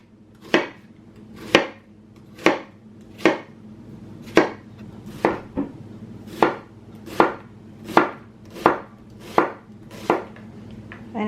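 Knife slicing through an onion on a cutting board, about a dozen sharp, evenly spaced chops, close and clear with no talking.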